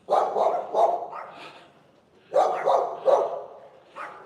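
A large dog barks loudly in two bursts of three or four deep woofs, with a short quiet pause between them.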